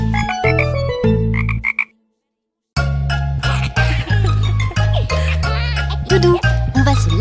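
Green speckled frogs croak in a loud, dense series of rhythmic calls, briefly dropping to silence before resuming in a busy overlapping chorus.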